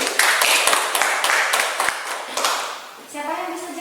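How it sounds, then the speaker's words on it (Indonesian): A classroom group claps for a student group, giving a short burst of brisk, scattered applause that fades out. A voice starts speaking near the end. "Kita beri aplaus untuk kelompok 2 dulu."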